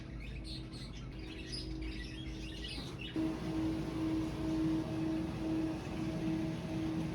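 Small birds tweet near a home dining table, faint repeated chirps over a constant hum that grows a little louder partway through, with no talk.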